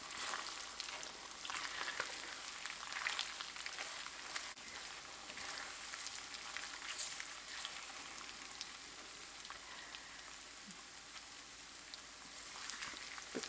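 Canned bacon frying in a pan gives a steady, close crackling sizzle with scattered pops that holds evenly throughout, with no one talking.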